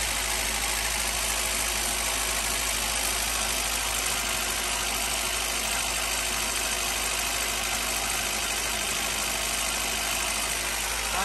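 A Honda B-series engine, just back together after a distributor oil seal replacement, idles smoothly and steadily without misfires, a loud, constant close-up drone with an even rumble throughout.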